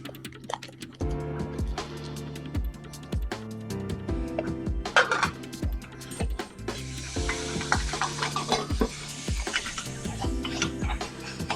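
Half a stick of butter sizzling in a pan on a stovetop while making stuffing, with a soft steady sizzle under frequent sharp spoon or utensil taps and clacks, fairly close, no talk.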